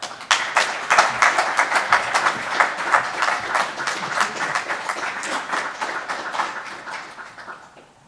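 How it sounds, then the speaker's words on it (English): Steady applause from an audience at a urology prize lecture, many hands clapping densely and fairly loud, tapering off near the end. "A round of applause."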